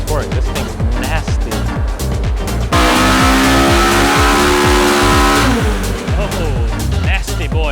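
Honda K20 engine screaming on a dyno, climbing steadily through the revs with a harsh, loud, close howl that holds near the top and then eases off. Excited voices shout beneath it.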